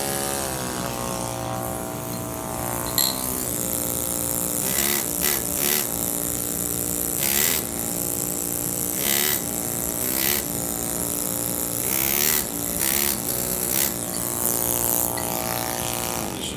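Cuturi short stroke pneumatic machine chiseling marble with carbide chisels, a continuous loud buzzing hammer with steady tonal drone and brief bursts of sharper chipping throughout.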